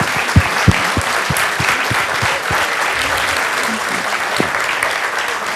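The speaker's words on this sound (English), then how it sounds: "let's give a big round of applause for all these teams" Big round of applause for the teams at a Chinmaya Somnath annual day, a loud, dense crowd clapping sustained throughout, with a few sharper nearby claps standing out early on.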